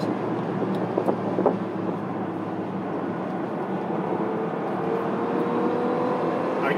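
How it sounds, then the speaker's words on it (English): Steady cabin drone of a 2020 Bentley Continental GT Mulliner's turbocharged W12 engine under way, a continuous low rumble with faint turbo whoosh and rising tone near the end, no talking. "I hear the turbos, too."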